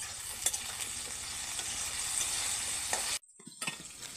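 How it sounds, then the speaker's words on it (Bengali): Potato pieces seasoned with salt and turmeric fry in a wok with a constant sizzle and occasional stirring scrapes, then drop away abruptly near the end, leaving only faint clatter. "কড়াইতে আলুটা ভাজা হতে হতে"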